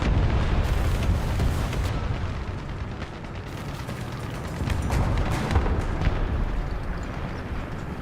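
Tank cannon fire and explosions in War Thunder, a French 5.7 battle: deep booming blasts and rumbling impacts repeat over a dense, continuous roar of battle noise, with no talk.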